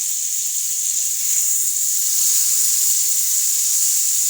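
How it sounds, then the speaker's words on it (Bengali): Pointed gourd (potol) frying in a pan, a continuous even hiss of hot oil sizzling loudly and steadily, no voices. "পটল ভাজি করছি।"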